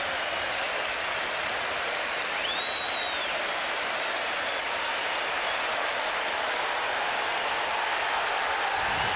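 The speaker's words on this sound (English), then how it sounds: "the applause for Dennis Bergkamp has got even more intense" A packed football stadium crowd at Highbury applauds Dennis Bergkamp during Arsenal's final game there against Wigan Athletic, a loud, dense, sustained roar of clapping that holds steady throughout.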